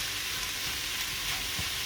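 Ginger, onion and garlic sizzle steadily in a hot pan, a continuous bright frying hiss with faint stirring scrapes, close and moderately loud.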